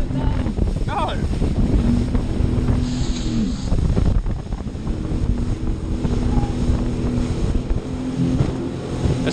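A jet ski off Costa Adeje, Tenerife, with its engine droning loudly and rising as it accelerates, mixed with heavy wind buffeting on the microphone and occasional shouts from the rider.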